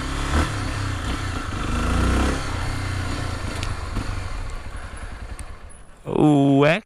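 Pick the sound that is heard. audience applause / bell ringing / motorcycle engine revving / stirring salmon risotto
motorcycle engine revving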